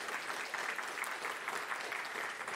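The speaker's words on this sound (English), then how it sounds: "Break for applause." An audience applauds after a talk at a security conference, a steady wash of many hands clapping at moderate distance in a hall, with no speech over it.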